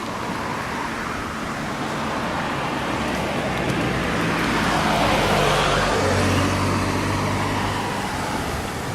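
Japanese kei cars with 660 cc engines pass steadily in Tokyo traffic, a continuous close road roar that swells in the middle as vehicles go by.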